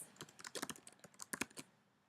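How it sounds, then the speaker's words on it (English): Fingers typing a written reply on a computer keyboard, a quick irregular run of light, close key clicks for about a second and a half before stopping. "here I'm going to type my response"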